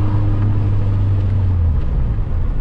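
A car with a swapped Honda K-series engine accelerating smoothly, heard from inside as a loud steady low drone with a faint whine layered over it, no voices.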